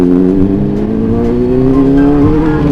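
A motorcycle engine revs steadily up close, its loud droning tone rising slowly in pitch as the throttle is held open.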